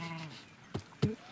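A pregnant sheep gives a short, faint wavering bleat during a sheep and goat PPR vaccination session, followed by two sharp knocks and a rustle.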